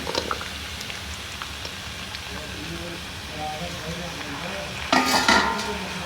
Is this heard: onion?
yes